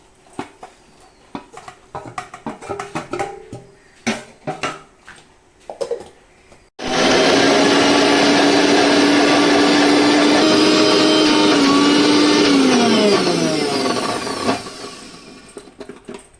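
A few clicks and clatters, then a mixer grinder grinding cooled roasted spices roars on loudly and close, whining steadily for several seconds before its pitch drops as it winds down.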